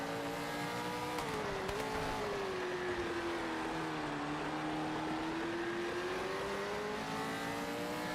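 A V8 Supercar in a racing game on a hot lap makes a steady, loud engine drone throughout. The pitch rises and falls smoothly with the shifts and throttle changes, and no one speaks.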